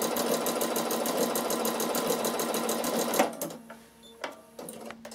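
A Bernina sewing machine fitted with a ruffler attachment stitches tucks at a steady, fast mechanical clatter for about three seconds, then stops, leaving a few faint clicks and handling noises.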